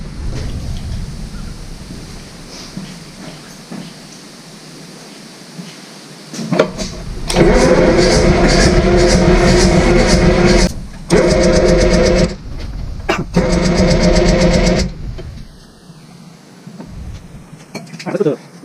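A B.F. Avery Model V tractor engine cranking and catching, rough loud bursts of a mid-sized engine that sputters, stops and restarts, with wind noise and a voice talking nearby.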